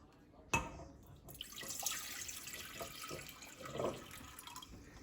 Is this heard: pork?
no